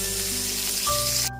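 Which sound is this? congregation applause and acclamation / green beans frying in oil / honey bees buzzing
green beans frying in oil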